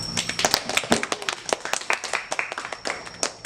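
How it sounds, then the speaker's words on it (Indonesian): A small group in a school science classroom claps briefly, sharp separate claps in an uneven, scattered rhythm that fades after a few seconds. "Tepuk tangan buat kita semua."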